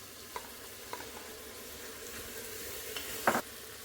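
Soaked rice and lentils are stirred into a pot for a mixed vegetable dal khichdi, giving a soft frying sizzle with a few light scraping knocks and a louder clatter near the end, close by with no talking.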